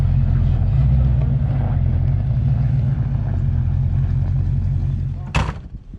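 A Foxbody car, long frozen and on flat-ish tires, drives through snow with a loud, steady engine drone that eases off toward the end, followed by a sharp burst of noise.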